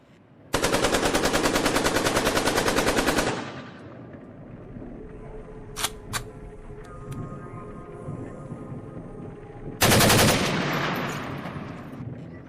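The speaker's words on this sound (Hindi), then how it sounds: "कई ताबड़तोड़ गोलियां चलाई।" Two loud bursts of rapid machine-gun fire, one about three seconds long and a shorter one later, separated by a quieter stretch with a few isolated sharp cracks and ringing tones, used as a sound effect in a spoken horror tale about soldiers and wolves.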